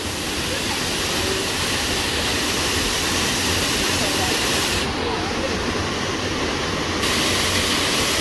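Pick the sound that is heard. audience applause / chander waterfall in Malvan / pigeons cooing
chander waterfall in Malvan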